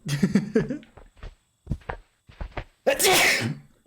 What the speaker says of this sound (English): Sneezes happen sometimes.